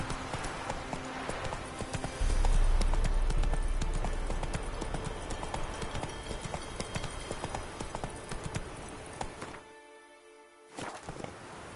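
Roach the horse trots in The Witcher 3, steady close clip-clop hoofbeats over ground that fade somewhat, drop out briefly, then resume.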